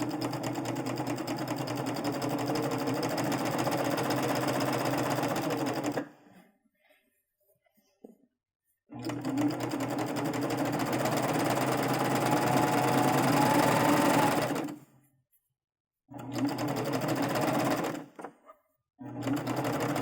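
A sewing machine stitches a drawstring backpack's side seam into the binding, running in steady, close mechanical bursts with rapid needle rhythm, stopping for pauses between runs, with no talk.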